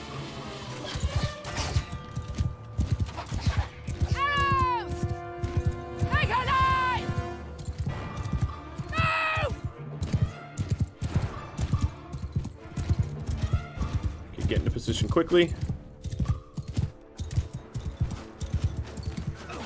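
Horses gallop in the Mount and Blade Bannerlord video game, their hooves thudding in a busy, continuous clatter. Occasional neighs and battle clashes rise through the din while someone talks loudly over much of it.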